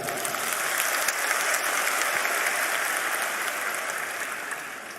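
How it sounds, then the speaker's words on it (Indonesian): An auditorium audience at a university gathering applauds the rector, a thick, even wash of many hands clapping that holds steady and tapers slightly toward the end. "Kita berikan tepuk tangan dulu."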